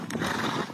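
A carriage mare gives one brief, close neigh, a strained whinny that fades out within a second.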